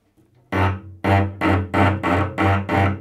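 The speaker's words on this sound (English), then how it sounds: "That is a sound of too much pressure, not enough bow." A cello bowed with too much pressure and too little bow, giving harsh, gritty, scratchy strokes: six loud, close bursts in a steady rhythm, with no talking.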